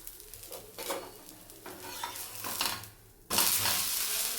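Dosa batter frying on a hot pan at home, a steady close sizzle with a few scraping and stirring sounds, the sizzling swelling louder and brighter in the last second.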